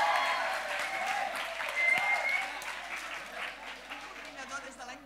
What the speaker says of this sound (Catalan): I un aplaudiment!